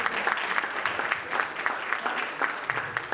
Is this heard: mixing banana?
no